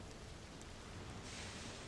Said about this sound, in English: It'll start raining, that's how you know you're at the exit.